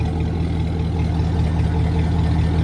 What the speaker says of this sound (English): yeah, it is straight pipe. Has a nice sound to it. Sounds like a boat on captain's call.